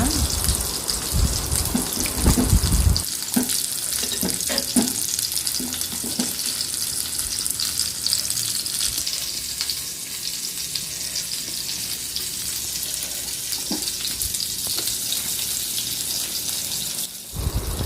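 Steady sizzling of chicken pieces frying in masala in a hot pan, continuous and close, with a few scraping stirs early on and no voices.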